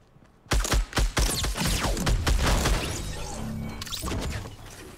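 Gunfire from a Fortnite match peppers an opponent in a rapid volley of sharp, loud shots. The cracks come in quick clusters, then trail into a rumbling echo that fades out.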